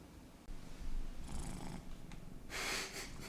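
A pet cat purring close up, a soft steady rumbling drone with a few louder breathy bursts near the end.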